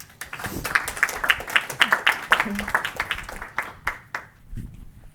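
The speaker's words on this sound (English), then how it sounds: "Another round of applause" Audience at a spiritual gathering giving a round of applause, scattered claps building into a brief burst then thinning out, with voices talking over and after it.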